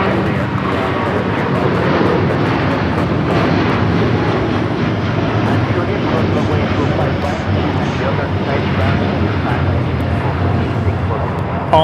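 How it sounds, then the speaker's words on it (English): An All Nippon Airways Boeing 787-9 Dreamliner in Star Alliance livery rolls for takeoff from LAX bound for Tokyo Haneda, a steady, loud broadband jet roar sustained throughout with low rumble and no breaks. "All Nippon Airways now rolling"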